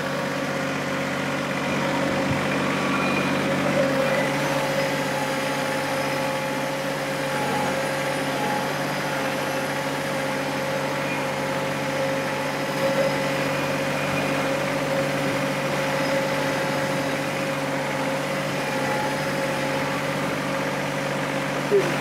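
A tractor engine idles and drones throughout on a homestead, a constant mechanical hum with a low rumble, unchanging and moderately loud.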